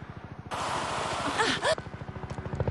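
A cartoon helicopter's rotor chops in a steady rhythmic thump throughout, under a burst of louder noise in the middle, with no voices.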